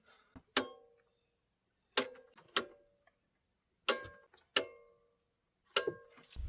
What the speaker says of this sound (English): And we can torque these three bolts to 37 foot-pounds.